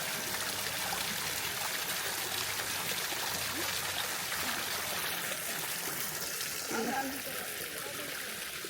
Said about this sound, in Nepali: हेर्नुहोस् न मुढाबाट आफै पानी निस्किँदो रहेछ